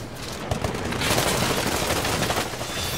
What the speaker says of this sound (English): This thing takes a lot of damage from an assault rifle.